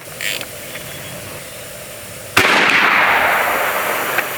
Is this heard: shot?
yes